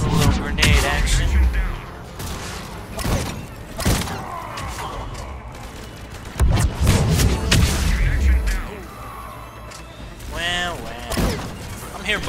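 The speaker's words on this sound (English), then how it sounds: "Time for a little grenade action." Grenades and weapons go off in Mass Effect 3 multiplayer combat, repeated heavy booms and sharp blasts spaced a few seconds apart, mixed with gunfire and battle noise while people talk throughout.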